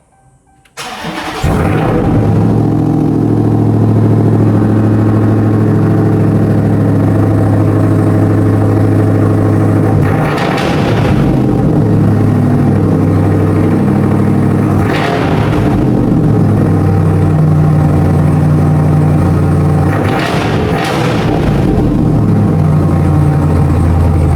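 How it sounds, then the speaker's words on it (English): A 2021 RAM TRX pickup's engine catches and settles into a loud, deep idle, with a few swells of throttle at regular intervals, close and steady throughout with no talk. "This truck sounds fucking nasty."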